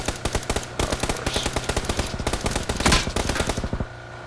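Rapid automatic gunfire in PUBG, a long loud burst of closely spaced shots in steady rhythm that cuts off near the end, followed by quiet.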